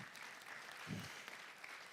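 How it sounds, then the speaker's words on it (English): Audience applause at the Emerald Awards for Environmental Excellence ceremony at the Timms Centre, a steady wash of many hands clapping that stays even and fairly faint throughout, with a brief low thump near the middle. "Round of applause."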